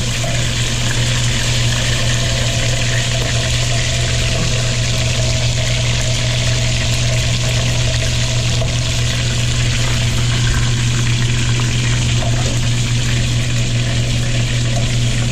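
Strips of beef for Mongolian beef deep-frying in very hot oil, giving a loud, steady, unbroken sizzling hiss with a low hum underneath.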